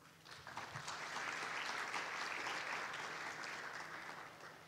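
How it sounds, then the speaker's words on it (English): Sustained audience applause for a board chairperson being introduced at a corporate event, building quickly and holding steady as a broad, even patter of many hands. "May we give him a round of applause."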